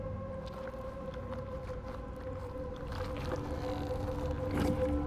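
Low tonal whale calls from a giant whale in the horror game REANIMAL drone steadily beneath a murky water ambience, with a few faint clicks and a slowly swelling rumble.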